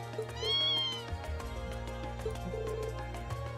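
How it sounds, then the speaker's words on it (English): Mother cat and kitten meow in the video game Trails of Cold Steel: a clear meow early on, then a fainter, shorter mew later, both over looping game music. "A mom and her kitten."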